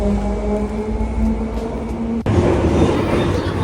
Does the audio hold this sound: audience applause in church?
no